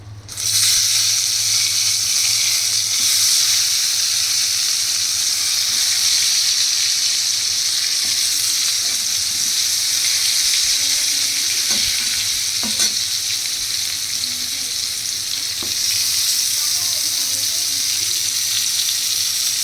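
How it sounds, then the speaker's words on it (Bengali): Pointed gourds fry in hot oil seasoned with salt and turmeric, giving a loud, continuous sizzle that runs throughout, with a few faint clinks in the pan. "এবার আমি এর মধ্যে পটলগুলোকে একে একে দিয়ে দেবো।"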